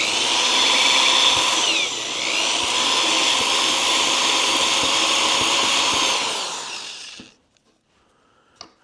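A power drill bores a hole for a brass fitting, a loud close whine that shifts pitch partway through and runs for about seven seconds, then winds down and stops, followed by a faint click.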